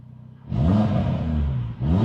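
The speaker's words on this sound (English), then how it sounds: "We'll give it a couple revs at idle with the valves closed" Audi RS3 with ECS exhaust, valves closed, blipped at idle: two quick throttle revs rising and falling, the first long and swelling, the second starting just before the end, over a low quiet idle.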